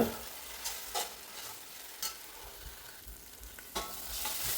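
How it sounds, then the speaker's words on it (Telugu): Ginger garlic paste fries in oil in a pan for chicken prawn biryani, a soft continuous sizzle broken by several distinct scraping strokes of a spoon stirring, close and fairly quiet, with no talking. "అల్లం వెల్లుల్లి పేస్టు పెద్ద స్పూన్ ఒకటి, కొంచెం ఎక్స్ట్రా వేద్దాం. బాగా వేపనిద్దాం."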